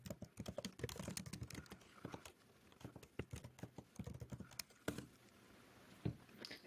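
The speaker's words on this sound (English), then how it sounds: "In your terminal, you're going to type this command" A command typed quickly into a computer terminal, a dense run of clacking keystrokes in uneven bursts with short pauses, close and clear with no voices.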